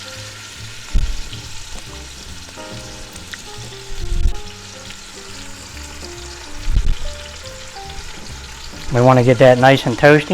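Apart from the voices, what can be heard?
meat searing in Instant Pot on saute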